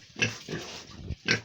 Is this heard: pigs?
yes